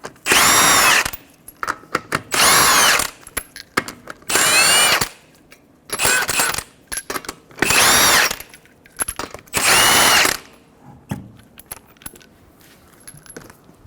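An impact tool spins off five 21mm lug nuts from a Toyota Highlander front wheel, loud close bursts of whirring and rattling, about six in a row, separated by metallic clinks of nuts and sockets being handled.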